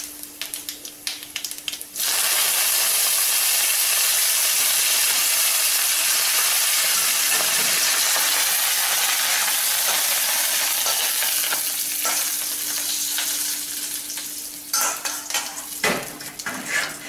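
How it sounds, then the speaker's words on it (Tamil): Mustard seeds, urad dal and curry leaves hit hot sesame oil in a pan and burst into a loud, steady sizzle that runs for most of the clip. Faint clinks of a spoon stir through it. "நல்லெண்ணெயில் நம்ம வந்து கடுகு உளுந்தம் பருப்பு கருவேப்பிலை போட்டு தாளித்து கொட்ட போகிறோம்"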